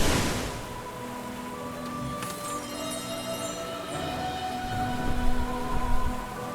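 A waterfall in the Glyde demo video game rushes as a steady broadband roar, with sustained game music tones running beneath it.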